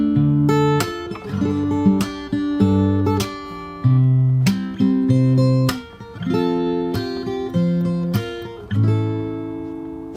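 Fingerstyle acoustic guitar plays the first verse section of a song, with plucked chords and bass notes in a steady rhythm and percussive accents. It is close and clear, with no talking.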